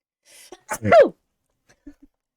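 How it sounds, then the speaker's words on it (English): A single sharp sneeze up close, with a quick intake of breath before it and a little quiet shuffling afterward. "I sneezed"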